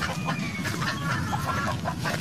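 A flock of native farm chickens clucks continuously at a moderate distance, soft overlapping calls blending into a constant low background noise.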